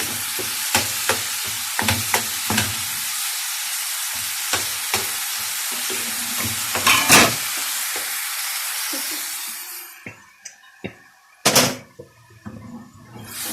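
Meat and onions fry in a hot pan, a steady sizzle broken by sharp scrapes and knocks of a spoon stirring. The hiss drops away near the end, leaving a few loud clatters.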